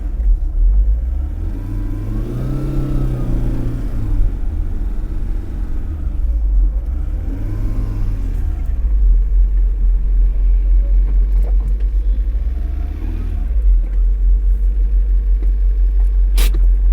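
Maruti Omni van engine running steadily, a loud low rumble close by that swells with a few revs and settles back to idle, with no talk over it.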